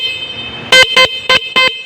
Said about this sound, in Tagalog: ito yung kanyang busina